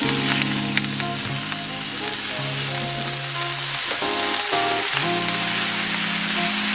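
Partly frozen shrimp hitting a hot pan for chile verde burritos, giving a loud, steady sizzle like heavy rain throughout, with a low tonal hum underneath and no voices.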